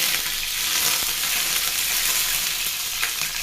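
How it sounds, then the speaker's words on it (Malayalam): Washed curry leaves dropped into smoking-hot oil for Kerala-style chicken fry, producing a loud, continuous crackling sizzle close up, with no talk. "ഇനി ഇതിലോട്ടിടാം കരിവേപ്പില നമ്മൾ കഴുകിയെടുത്തത്."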